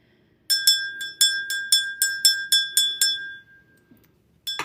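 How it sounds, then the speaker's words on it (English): A small handheld bell rung repeatedly indoors, about ten bright, clear metallic strikes in a steady rhythm, each ringing briefly before the next, then fading into quiet, with a short clink at the very end. "I always ring my bell before I get started."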